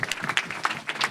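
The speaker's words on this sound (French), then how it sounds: "Qu'on peut applaudir absolument." An audience at a TANGRAM Talks conference event claps throughout a brief moment of applause: a scattered flurry of sharp hand claps, moderately loud and close, with no talking.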